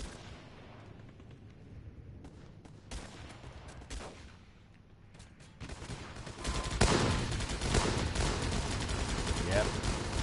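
Dense gunfire from the video game Guns Up, sparse shots at first building into a loud continuous fusillade of rapid bursts and heavy impacts.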